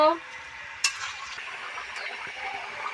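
Egg curry gravy with potatoes bubbling in a pan, a close steady sizzle and simmer with a sharp utensil clink near the start and soft stirring scrapes throughout, no talking.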